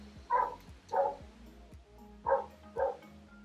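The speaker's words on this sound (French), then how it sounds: "le bruit des chiens" A dog barks four times at moderate distance, in two pairs of sharp woofs separated by a short pause.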